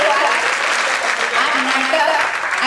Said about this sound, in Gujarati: દરેકે માટે આપણે જોરદાર તાળીઓથી વધાવી દીધી